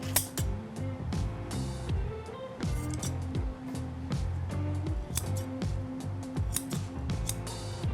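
Scissors clip loose threads from ripped denim in quick, repeated close-up snips, layered over a steady mechanical rattling background.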